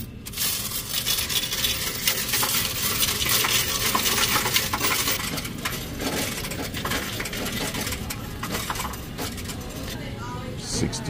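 Loose coins found in bought cars being counted and shuffled together, producing a dense, continuous metallic clinking and jingling close by, with someone talking over it throughout.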